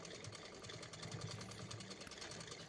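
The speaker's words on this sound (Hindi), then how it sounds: "यहाँ से हम जो है सिलाई को पक्का कर देंगे और डबल सिलाई लगाएंगे।" A sewing machine stitches a suit neckline with a fast, even mechanical chatter, running continuously at close range and fairly quiet, with no talking.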